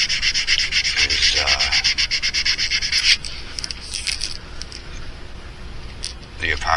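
A custom mouse fishing lure has its epoxy sanded level. Quick, close, rhythmic rubbing strokes run for about three seconds, then give way to fainter scraping and a few short strokes near the end.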